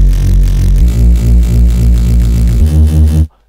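A synthesized Reese bass built from a sine wave layered with a distorted oscillator, a thick, buzzing low drone that shifts pitch twice and holds loud and steady, then cuts off abruptly.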